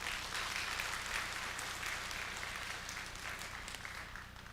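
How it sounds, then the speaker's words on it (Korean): A church congregation applauds during a Sunday sermon, a steady, moderately quiet wash of many hands clapping that continues without pause and eases slightly toward the end, over a low room hum. "하나님 앞으로 영광의 박수합니다"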